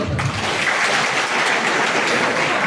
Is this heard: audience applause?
yes